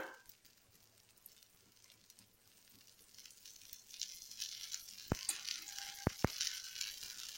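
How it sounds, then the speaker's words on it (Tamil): A rava dosa cooks in oil on a pan, its sizzle faint at first and then swelling into a brighter crackle, broken by a few sharp clicks near the end. "இப்போ ஒரு சைடு நல்லா வேகட்டும். எண்ணெய் விட்டுக்கலாம்."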